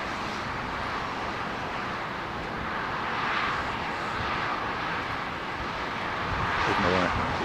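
A British Airways airliner, a Finnair codeshare flight at London Heathrow Airport, gives a steady loud jet roar from start to finish, with people chatting nearby.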